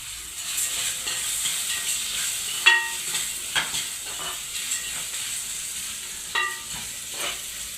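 Ingredients for ragi idli, including roasted dal, are dry-roasting in a pan, with a soft steady sizzle broken by intermittent scraping clicks of a spatula stirring against the metal.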